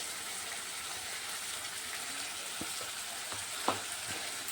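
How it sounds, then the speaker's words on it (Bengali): Soybean masala frying in a pan with Kashmiri chilli powder, turmeric and salt: a steady broadband sizzle throughout, with a few soft stirring clicks and scrapes near the end. "এখন এগুলোকে ভালো করে কষিয়ে নেব।"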